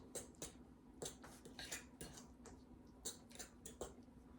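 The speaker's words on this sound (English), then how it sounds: "Just go ahead and mix it in." Spoon mixing banana bread batter with sugar in a small bowl, quiet irregular clinks and scrapes of utensil against the bowl, a dozen or so soft taps over a faint low hum, no talking.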